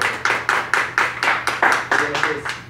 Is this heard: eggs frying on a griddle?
no